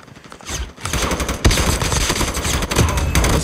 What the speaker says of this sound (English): Wait, someone shooting me.